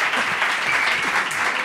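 A studio audience claps for guest Loulogio on a comedy show, a short steady burst of applause with faint voices mixed underneath.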